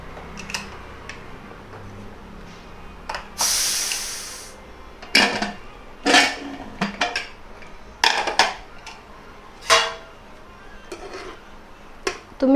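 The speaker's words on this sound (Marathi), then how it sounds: "आता कुकर पूर्ण थंड झाल्यानंतर आपण त्याला उघडून बघूया।" A cooled pressure cooker holding chicken biryani is opened: sharp metallic clanks and rattles of the lid and vessel, plus one brief hissing burst, in irregular close clatters.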